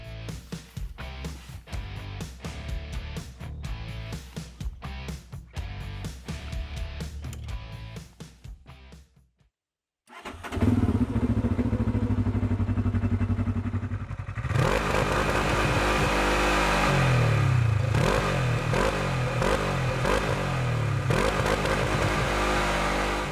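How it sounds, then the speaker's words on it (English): Segway AT10 1000 ATV with a fuel-injected 1-liter two-cylinder engine on stock exhaust, starting after a brief silence and then revving loudly and steadily with rising and falling pulls, close up. "Even with the stock exhaust, the engine sounds pretty rich."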